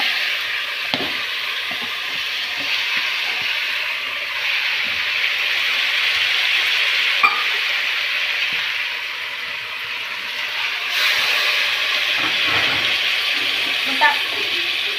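Vegetables for veg biryani cook in a pot, giving a moderate, steady hissing sizzle with occasional soft knocks and stirring sounds, close and continuous throughout.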